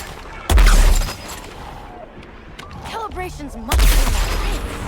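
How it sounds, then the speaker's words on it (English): Gunfire in the video game Suicide Squad: Kill the Justice League comes in two loud, dense bursts of rapid shots, with voice-like game sounds and effects in the quieter stretch between them. "You'll notice there I was shooting at my teammates."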